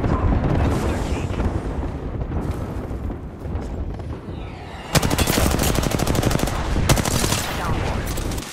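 Gunfire and airstrike explosions in a video game, heavy overlapping bursts and blasts. A brief lull is followed by louder, rapid automatic fire near the end, with someone talking over the noise.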